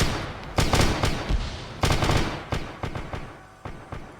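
Heavy gunfire in the military video game Arma 3, a loud, sustained barrage of booming shots and bursts with echoing tails, rolling on steadily and up close.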